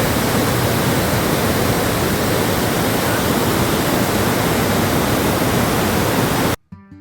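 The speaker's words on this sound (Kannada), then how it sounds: "ಇದೇ ಜಲಪಾತದ ನೀರು ಮುಂದೆ ಹರಿದು" Mookanamane Falls near Bisile Ghat roars as a dense, loud, unbroken rush of falling water that fills the whole span, then cuts off abruptly just before the end.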